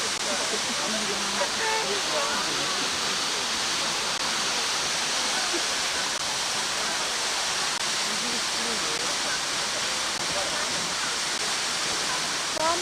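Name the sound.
falling water from a waterfall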